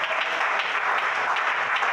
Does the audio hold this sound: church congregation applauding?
yes